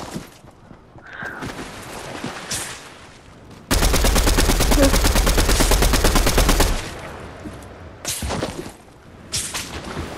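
Sustained burst of rapid automatic gunfire from a video game shootout, a dense, loud rattle lasting about three seconds in the middle, framed by scattered single shots and whooshes before and after.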